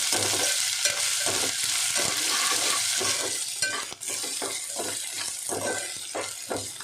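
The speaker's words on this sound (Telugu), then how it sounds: "కొంచెం అల్లం వెల్లుల్లి పేస్ట్ చేసుకుందాం. ఓకే, వేగుతుంది." Ginger garlic paste sizzles steadily in a hot pan, a continuous loud frying hiss broken by regular scraping stirs of a spoon, close by with no voices.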